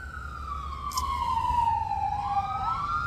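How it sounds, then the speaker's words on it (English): An ambulance siren sweeps past outdoors, a loud wailing tone that slides downward as it goes by while a second siren tone joins near the end, over a low traffic rumble. "ambulance is passing"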